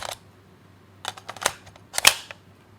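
Rifle magazine being removed in video game foley, a quiet run of sharp mechanical clicks and clacks: one tap, then a few scattered clicks and a louder clattering burst near the end, close and alone.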